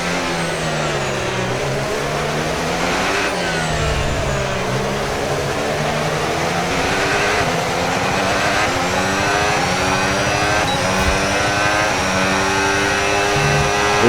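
F1 race cars screaming past in a racing video game, several engines with rising and falling pitch overlapping steadily throughout, loud and continuous with no talk.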